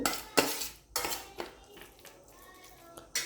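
A spoon stirs smashed fire-roasted brinjal with finely chopped onion in a bowl, giving several sharp scraping clinks against the bowl spaced irregularly between quieter mushy mixing.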